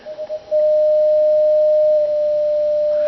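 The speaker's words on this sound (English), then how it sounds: "I set my side tone here to 600 hertz" A steady 600 hertz CW side tone from an amateur radio setup sounds as a pure, unbroken sine-like whistle for most of the stretch, preceded by a few short keyed beeps at the start.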